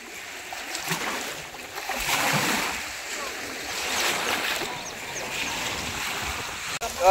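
Strong wind buffeting the microphone at sea during a fishing trip in wind and rain, a rushing roar with water washing around a boat, with a voice talking now and then.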